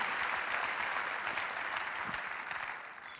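A church congregation breaks into sustained applause at a Christian conference, a dense wash of clapping from a large crowd that holds steady and then tapers slightly toward the end.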